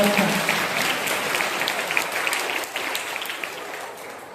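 Applause from an audience at a school annual prize-giving ceremony in Angaon, a dense, fairly loud clapping that fades slowly over a few seconds.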